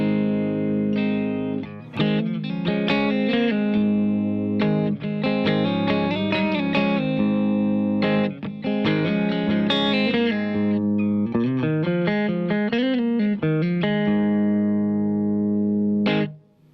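A humbucker-equipped electric guitar through a Fender amp model in US tweed mode with no effects plays a steady run of chords and single-note licks, slightly gritty but not pushed, close and with no talking.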